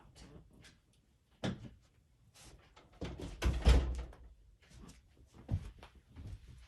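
An indoor door is pushed shut with a solid thump and a brief slam, preceded by shuffling movement and followed by quieter household rustles, heard alone without talking.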